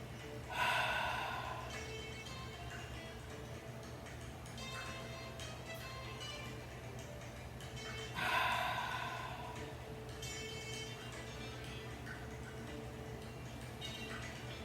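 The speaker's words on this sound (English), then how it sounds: "lay back, pyramid palms against the belly, across the navel, and do some cleansing breaths." Cleansing breaths during a lying-down Kemetic yoga warm-up, two audible breaths several seconds apart, each a brief airy rush that tails off, close but faint over a quiet steady hum.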